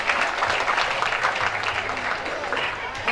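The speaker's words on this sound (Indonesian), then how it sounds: "Marilah tepuk tangan yang meriah sekali lagi" Loud, continuous applause from an audience at an Islamic school farewell ceremony in Prabumulih, dense and steady for about three seconds with some voices mixed in.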